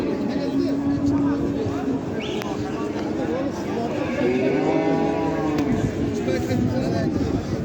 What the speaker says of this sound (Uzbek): Sigirni ko'rinish